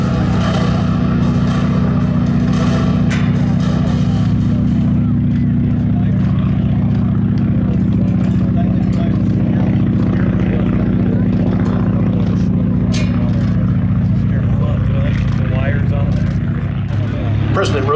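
Vintage World War II warbird piston engines roar loudly at takeoff during a Wings Over Dallas airshow, a steady heavy droning rumble that holds for the whole stretch, with a voice talking over it.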